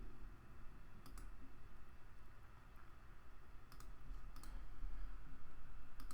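Several sharp computer mouse clicks, sparse and close, over a steady low room hum with no talking.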